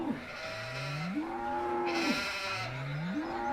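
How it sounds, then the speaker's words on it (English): Livestock in a Farming Simulator 2017 stockyard call out with repeated rising, drawn-out bleats, several overlapping cries in steady succession at moderate volume over a soft ambient background. "Now, I hear sheep and stuff, and I don't see them."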